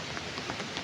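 Steady, soft rain patters continuously, with scattered individual drops ticking on a surface.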